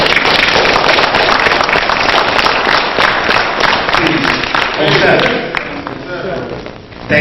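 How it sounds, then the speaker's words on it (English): A crowd at a martial arts extravaganza applauds a professor: loud, sustained clapping from many hands, fading slightly toward the end, with some cheering mixed in. "he deserves a monumental hand of applause as he comes out"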